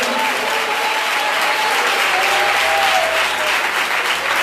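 Sustained applause from a large indoor church congregation, dense and steady throughout, with faint voices mixed in.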